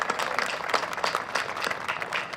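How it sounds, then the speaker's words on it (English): Audience applause at a town square park grand reopening, a steady round of clapping from a modest crowd, moderately loud and continuous throughout. "Let's give Gene a big round of applause"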